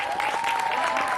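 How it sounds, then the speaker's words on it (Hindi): An audience at a Bollywood film song launch event claps in dense, continuous applause, with a steady tone sounding faintly over the crowd. "एक बार जोरदार तालियां वरुण के लिए।"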